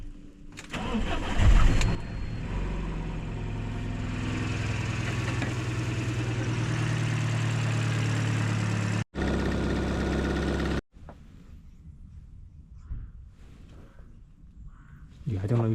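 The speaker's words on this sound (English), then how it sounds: "So because now I just warm up the engine, right?" An Alfa Romeo Mito engine cranks and fires up, then settles into a steady, close idle with a brief cutout near the end, after which faint talking is heard over quieter background.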